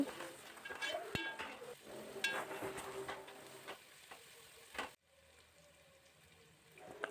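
Curry leaves and onions frying in hot oil for a Telugu fish curry (pulusu): a soft sizzle with light clinks of a spoon against the pan, quiet and close, fading abruptly partway through.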